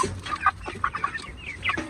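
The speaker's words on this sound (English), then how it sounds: "It's that brown chicken right here." A brown hen clucks in a farm coop, several short close clucks and squawks in quick irregular succession, with no talking.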